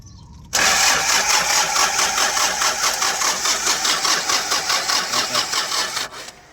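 A Hyundai Porter II with a D4CB diesel engine that is hard to start cranks with a rapid, loud rhythmic churning for about five seconds after a quiet start, then cuts off.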